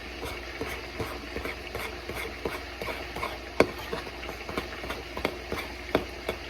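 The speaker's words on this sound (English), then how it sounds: "And then you want to stir this up." A spoon stirs a honey garlic sauce mixed with garlic powder, making close, rhythmic clicks and scrapes that repeat steadily with no talking.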